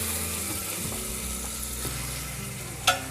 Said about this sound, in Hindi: 1 मिनट के लिए इसको अच्छे से भून लेंगे हम।